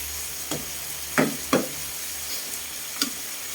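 Squid adobo simmering in a pan is stirred with a utensil, several distinct scraping knocks spaced about a second apart over a soft, steady sizzle, close by and with no talking.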